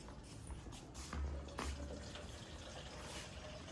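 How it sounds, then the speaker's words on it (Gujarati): Water is poured onto potted plants outdoors, making a faint, steady splashing wash with brief louder gushes. "તો આ બધા ઝાડવામાં પાણી નાખ્યું."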